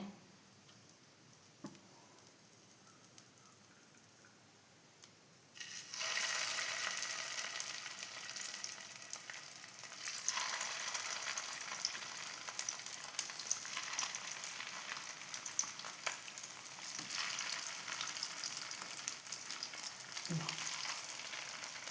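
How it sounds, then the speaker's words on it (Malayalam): Rice and egg snacks fry in a little coconut oil in a pan, a steady close sizzle that starts abruptly partway through after a quiet stretch and continues loudly to the end, with no talking. "പാനിൽ ഒരു ലേശം വെളിച്ചെണ്ണയാക്കിയിട്ടുണ്ട് ഒരുപാടൊന്നുമില്ല ഒന്ന് മാത്രം അപ്പോൾ ഓരോന്നോരോന്ന് വെച്ച് കൊടുക്കട്ടെ"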